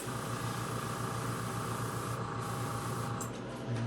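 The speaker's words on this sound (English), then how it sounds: "I had the airbrush ready to go" An airbrush sprays paint in a spray booth while masking a 1966 Ford Mustang hardtop, a steady close hiss with a constant hum underneath, brief breaks near the end.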